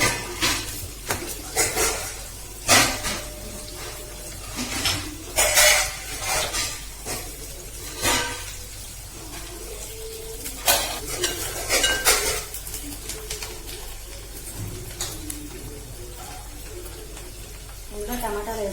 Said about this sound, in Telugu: ఇప్పుడు వంకాయ, ములక్కాడ, బఠానీ, టమాటా కర్రీ అయితే వండుతున్నాను.